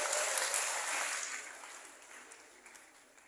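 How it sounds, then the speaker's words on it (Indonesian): An audience applauds honored guests at a youth forum, a broad wash of clapping from a crowd that starts full and gradually thins and fades over a few seconds, with no talk over it. "Tepuk tangan dulu lagi sekali lagi buat tamu kehormatan kita"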